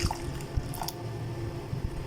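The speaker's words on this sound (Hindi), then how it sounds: "अब इसमें आहिस्ता आहिस्ता थोड़ा थोड़ा पानी जाएगा" Water is mixed into a dough of flour and vegetables by hand, making soft, wet squishing and dripping sounds in a loose, irregular rhythm close by.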